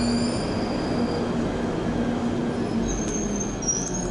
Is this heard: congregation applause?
no